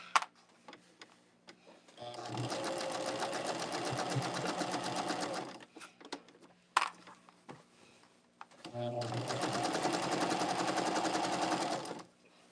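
A sewing machine stitches a quarter-inch seam along a quilt border in two close, steady bursts of rapid needle clatter, separated by a quiet pause with light clicks and fabric handling.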